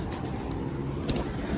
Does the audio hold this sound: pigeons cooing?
yes